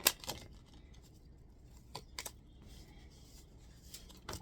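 Tarot cards being shuffled by hand, heard as a few quiet, scattered snaps and short riffling bursts close to the microphone, with near-silence between them.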